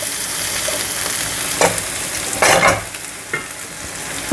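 Mushrooms turning golden brown sizzle steadily in a pan while a spoon stirs them, with a few louder scraping stirs cutting through the continuous frying hiss.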